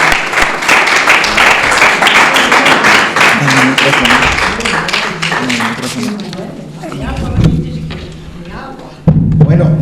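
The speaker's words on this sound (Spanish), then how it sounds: "Un aplauso para..." An audience applauds at the close of a lecture in Estepa: dense, loud clapping for several seconds that thins into scattered claps and thuds, with voices rising as it dies away.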